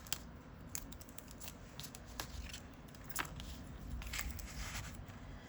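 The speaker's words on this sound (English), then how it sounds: "when I pop my die out, and take the tape off" A metal cutting die is popped out of a paper card base and tape is peeled away, giving faint close-up crinkles, small clicks and papery tearing sounds over quiet room noise.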